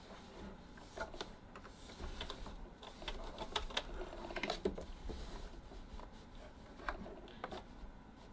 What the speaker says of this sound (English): Turn it around, stitch the other side.